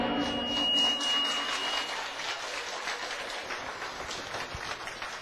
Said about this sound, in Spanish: Las personas de allá estuvieron aplaudiendo.